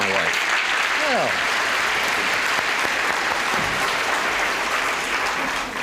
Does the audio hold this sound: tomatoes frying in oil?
no